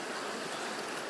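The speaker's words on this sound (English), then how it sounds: "I'm just sitting here by this nice little creek I found." A small creek flows steadily close by, a continuous broadband rush and trickle of water with no voices, holding an even level throughout.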